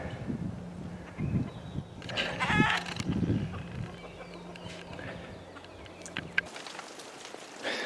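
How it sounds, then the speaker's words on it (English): Light rain patters over a garden with raised herb beds, soft drops on surfaces under a low steady hum, with faint clucking from chickens nearby and a few sharp clicks and knocks. "We got a nice rain."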